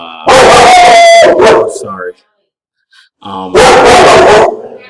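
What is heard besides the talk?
dog barking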